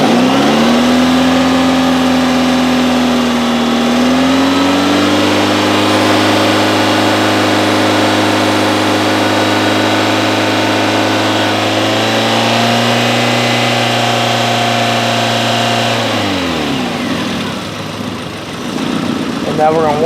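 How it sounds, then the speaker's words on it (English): A 2004 Hyundai Elantra with an alternator not charging under load revs up from idle to a raised engine speed, holds a loud, steady hum, then drops back toward idle near the end. "Let me give her a little gas."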